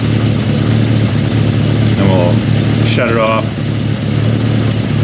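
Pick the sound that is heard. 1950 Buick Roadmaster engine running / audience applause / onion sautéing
1950 Buick Roadmaster engine running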